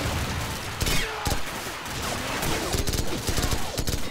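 Enemy gunfire in the Call of Duty game, with dense automatic rifle bursts and scattered shots crackling nearby over a busy battlefield.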